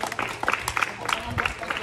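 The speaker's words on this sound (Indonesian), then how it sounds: "Sekarang tepuk tangan buat" Hands clapping in a physical education lesson on the squat-style long jump, a loose cluster of claps from a small group mixed with talking voices.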